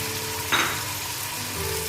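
Peas, tomatoes, yogurt, green chillies and spices fry in a pan for a spicy pea pulao, giving a steady close sizzle with a brief louder burst of stirring near the start and no talk.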